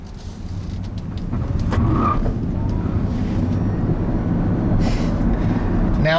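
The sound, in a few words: 2015 Kia Soul EV electric car driving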